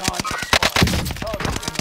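Gunfire in a video game: rapid bursts of close, sharp shots in a quick rhythmic string, loud and punchy, with small tonal game effects mixed in.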